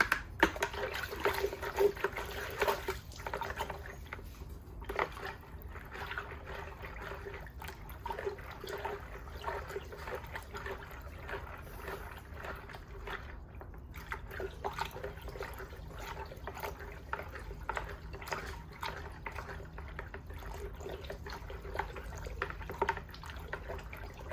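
Hydroponic nutrient solution being stirred for a 3D-printed vertical hydroponic tower, heard as continuous soft watery swishing and trickling with scattered drips and clicks, fairly quiet and without talk.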